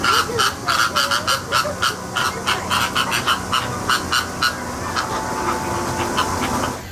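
Flamingos gathered near their nests at SeaWorld Orlando give a busy chorus of repeated nasal, goose-like honks in quick rhythmic bursts, fairly close and loud, with the calls thinning out toward the end.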